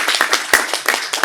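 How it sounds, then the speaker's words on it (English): An audience claps in a brief burst of rapid, close applause, a few sharp claps standing out, no talk. "so let's give him a round of applause."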